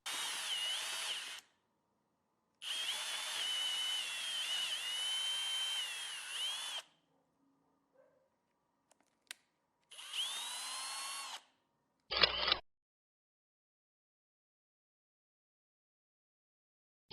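A power drill bores into stainless steel at low speed in several separate bursts, each a steady grinding whine lasting a few seconds with quiet gaps between, ending with a short sharp burst.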